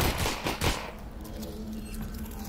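Gunfire in Half-Life: Alyx comes as a quick cluster of several sharp, close shots at the start, then gives way to quieter mechanical background sound.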